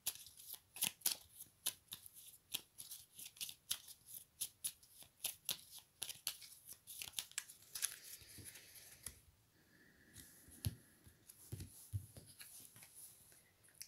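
Tarot cards being shuffled by hand, a quiet run of crisp riffling flicks and soft slaps in uneven bursts, close and alone without talk.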